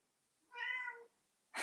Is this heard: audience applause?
no